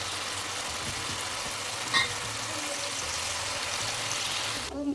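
Spiral potatoes fry in hot oil in a kadai, giving a continuous close sizzle with a soft clink partway through and a brief rustle at the end.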